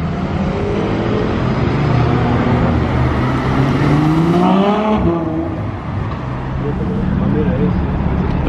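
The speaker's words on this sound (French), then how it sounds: "Regardez un peu la Dodge L4 qui arrive là." A Dodge car passes by on a street in Monaco, its engine swelling loudly and close as it goes past amid other traffic noise, with someone talking over it.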